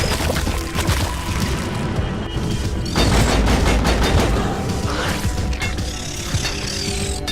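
Rapid enemy gunfire strikes the player in Deep Rock Galactic, a dense, loud mechanical rattle of shots mixed with clanking in-game action, continuing steadily without letup.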